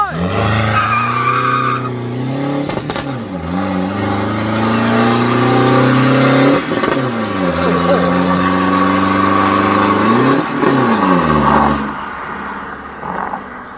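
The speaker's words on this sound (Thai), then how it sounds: "ดี๋ยวลองวิ่งกันดูครับเบรกมือลง ใส่เกียร์หนึ่ง" A Toyota Revo pickup fitted with a plug-in EcuShop tuning box pulls away from first gear and accelerates hard. The loud, close engine note climbs in several rising sweeps broken by gear changes, with some tire noise.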